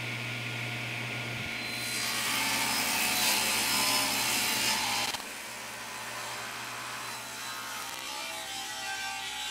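A table saw cutting strips of padauk and maple, a steady motor hum that rises into a bright, loud blade whine while the wood feeds through, then drops back to idle running.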